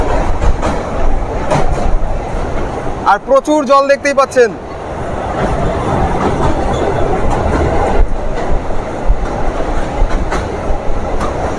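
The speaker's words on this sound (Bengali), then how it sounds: "প্রথম Azimganj junction Krishnanagar city passenger দেখতেই পাচ্ছেন নসিপুর ব্রিজ পার করলো" The Azimganj Junction–Krishnanagar City passenger train crosses the Nasipur rail bridge over the Bhagirathi river on its first commercial run, a loud, close, continuous clattering rumble of wheels on the span, with a voice speaking briefly over it.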